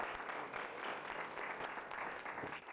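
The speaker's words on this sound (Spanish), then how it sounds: "Así que un gran aplauso para él." Applause from an audience at an Islamic Q&A event honouring an organiser: a continuous, even wash of many hands clapping, fairly quiet and slightly distant, with no speech over it.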